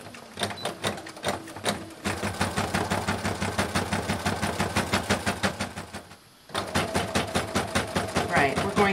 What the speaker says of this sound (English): I'm stitching a quarter inch in from the folded edge.